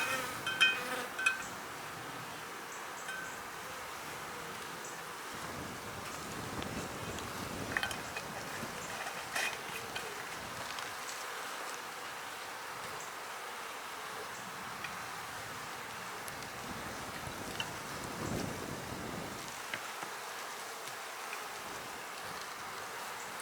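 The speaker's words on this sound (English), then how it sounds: "Now, a bee flew down in the jar." A bee buzzes inside a jar during beekeeping, a thin, steady drone that rises and fades in several passes over a quiet background, faint and close.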